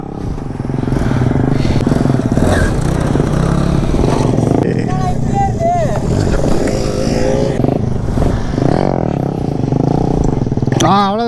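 A KTM motorcycle engine revs loudly and constantly during wheelie practice, the throttle rising and falling close by, while someone talks over it throughout.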